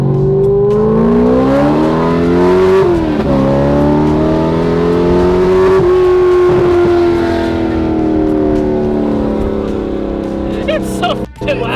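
A Corvette engine revving loudly and close, a steady roaring drone that rises and falls in pitch as it pulls through the gears, with people talking over it.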